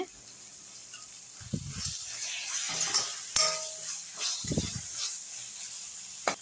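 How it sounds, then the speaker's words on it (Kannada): Masala of onion and tomato frying in oil in a pan, a soft continuous sizzle with occasional spoon stirs and scrapes against the metal. "ನೋಡಿ ಮಸಾಲ ಚೆನ್ನಾಗಿ ಫ್ರೈ ಆಗಿದೆ ನೋಡಿ ಎಣ್ಣೆ ಎಲ್ಲ ಸೈಡೆಲ್ಲ ಎಣ್ಣೆ ಬಿಡ್ತಾ ಇದೆ"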